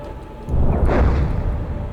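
Artillery strike explosions in an M1 Abrams tank game rumble as a low, sustained, distant boom that swells in after a quiet start and keeps rolling.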